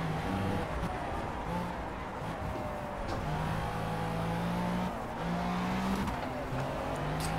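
A race car in the driving game Project CARS runs steadily, its engine droning and shifting pitch through gear changes, with faint tire noise and no speech over it.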